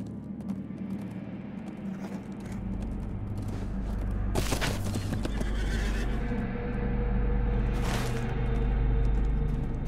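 A horse in an online fantasy role-playing game neighs with a loud whinny amid busy game ambience, low rumbles and clattering hoof-like sounds, with sharper bursts rising midway.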